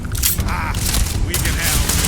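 Gunfire in the space game Starfield, a short burst of rapid, loud shots and booming impacts packed into about two seconds, close and punchy, with a voice partly mixed in.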